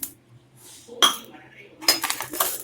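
Urad dal lentils are tipped into a pan of roasting chana dal for curry leaf powder, giving a couple of brief clinking, rattling bursts of grains and utensil against the pan, close and moderately loud with quiet gaps between.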